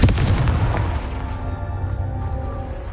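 Confringo, an explosive fire spell in the video game Hogwarts Legacy, lands as a loud, booming burst that fades into a lingering crackling, ringing tail.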